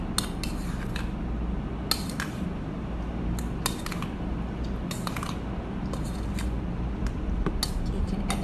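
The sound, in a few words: mixing fruit dessert in a bowl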